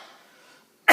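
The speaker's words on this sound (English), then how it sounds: "That's why I was coughing." A single sharp, loud cough bursting out abruptly at the end after a stretch of faint background hum.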